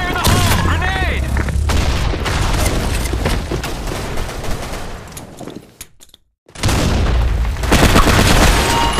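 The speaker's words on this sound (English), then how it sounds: "Fire the hole. Grenade." Grenade blast in the video game Blackshot, loud booming bursts with rolling gunfire layered through, a brief near-silent gap, then the loud game noise resumes.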